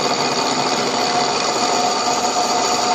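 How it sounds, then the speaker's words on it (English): A power drill whines steadily and loudly through the whole stretch, boring a 1/4 inch pilot hole in metal on a Ferguson TO30 tractor, grinding continuously with no pauses and no voices. "Start out with a 1/4 inch pilot hole"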